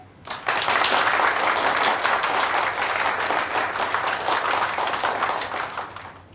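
Crowd applause at a police award ceremony honouring officers for bravery swells suddenly into a loud, dense, sustained clapping that holds steady for several seconds before fading at the end.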